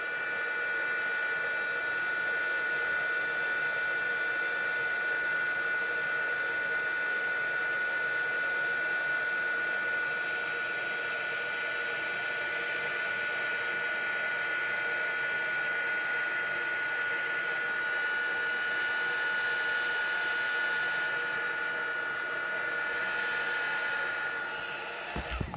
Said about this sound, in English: Get my tool, heat tool. And you know me, I love my heat embossing.